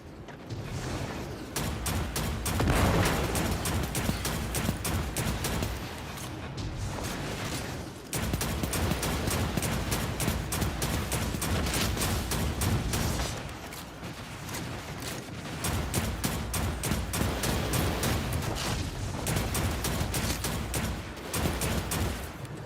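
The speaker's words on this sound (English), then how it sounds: "when firing from the hip, Skyburner's Oath now lobs slower projectiles at a faster rate of fire" Skyburner's Oath firing in Destiny 2, lobbing explosive rounds in rapid, loud bursts of repeated shots with short pauses between volleys.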